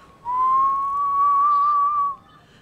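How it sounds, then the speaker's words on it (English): A siren-like song from the Somnacanth monster in Monster Hunter Rise: one sustained, smooth, whistle-like tone that glides slightly upward and holds steady for about two seconds before stopping, heard alone and clearly. "when Somnacanth starts singing,"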